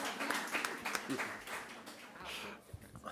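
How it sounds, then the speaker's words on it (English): Scattered applause from a modest audience at a community event hall, a loose spread of overlapping hand claps of medium loudness lasting a few seconds, with some murmuring voices underneath. "We'll just clap for her while she's on her way up"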